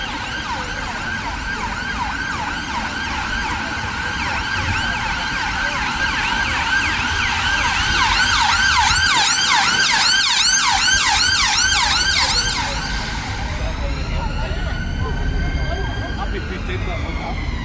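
An ambulance siren wails in a steady, loud, rapid warbling cycle as it passes along an Edinburgh street, then shifts pitch and fades slightly near the end over traffic rumble.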